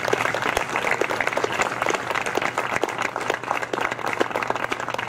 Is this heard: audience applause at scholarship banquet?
yes